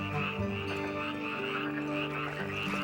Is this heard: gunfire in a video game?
no